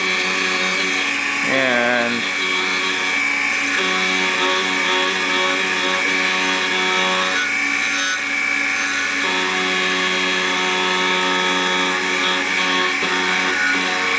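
A key duplicating machine grinds steadily while cutting a Chinese BiLock key, a loud continuous whine and buzz with tonal shifts as the blank passes through, nearly filling the whole span with only a brief word spoken.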